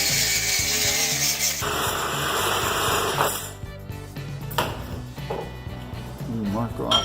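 Sawzall reciprocating saw cutting through a steel brake drum, a rough, steady rasping buzz with shifting pitch over several seconds, fairly close.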